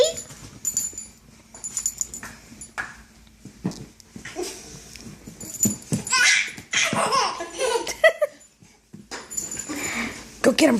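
A puppy plays with a baby in a chaotic home scene, with dog whimpers and yips mixed with the baby's giggles and belly laughs, close and lively under adult talk.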